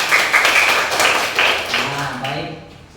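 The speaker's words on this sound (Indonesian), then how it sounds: "tepuk tangan dulu." A group claps in short bursts of rhythmic applause amid talk, with the clapping fading as a voice continues speaking.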